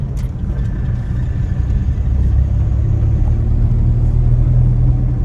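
A car's engine hums steadily during a driving lesson as it accelerates and is shifted into third gear, a continuous low rumble heard from inside the cabin with no clear gear-change break.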